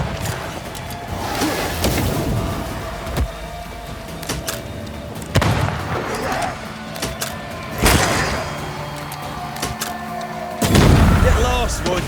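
Four or five heavy, booming gunshots from the video game Banishers: Ghosts of New Eden ring out at irregular intervals, each a sharp loud blast with a rumbling tail, over a constant bed of ambient game noise and muffled voice.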